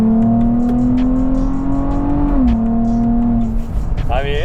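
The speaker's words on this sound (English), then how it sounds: "Just pulls. You get the pops. So this is a 4th gear pull." A tuned 2024 Nissan Z Nismo accelerating hard through a 4th gear pull, its engine note droning steadily and rising loud from inside the cabin, with a slight dip partway through and voices talking over it.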